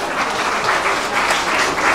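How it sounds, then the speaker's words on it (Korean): Sustained audience applause at a charity concert celebrating an album release, a dense, even wash of clapping that fills the full two seconds with no voices over it. "다시 한번 큰 박수"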